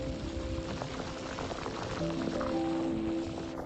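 Steady crackling sizzle of hot oil frying small arrowhead pieces, a dense continuous hiss with small pops, close and fairly loud throughout.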